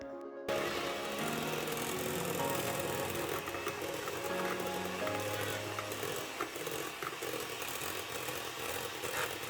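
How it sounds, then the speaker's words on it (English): No-bake Oreo cheesecake filling is whipped in a bowl, giving a continuous mechanical whirring and rattling that holds steady for the whole stretch, with no talking. "we need to actually mix it a little bit longer so it can get a little thicker"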